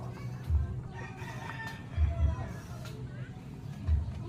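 A White Kelso gamecock rooster crows at a farm yard, its call rising over a steady bed of low rumble and background chatter, with short thumps recurring at intervals.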